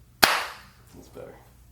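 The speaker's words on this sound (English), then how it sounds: "I wanted to clap thrice." A single sharp, close hand clap rings out loudly, followed by faint softer sounds and murmuring voices.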